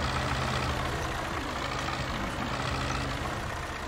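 Engine of a JCB 4CX backhoe loader in the Spin Tires off-road driving game, a steady low rumbling drone that runs without a break throughout, fairly loud and close, with no talking over it.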